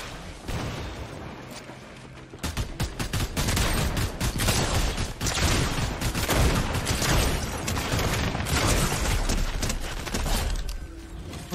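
Dense volleys of sniper rifle and other gunfire crack through a video game battle, loud and nearly continuous with heavy booming impacts, starting quieter for the first two seconds before the barrage builds.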